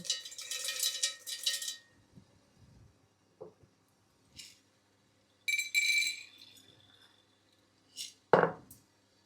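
A small cup of peanuts poured into a mixer jar for coconut chutney: a close, rattling pour up front, then a few scattered clinks and taps against the jar, with silence between and no voices.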